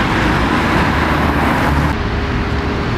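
A city bus in Durham passes close by, a loud, steady roar of engine and road noise that holds throughout, easing slightly near the end.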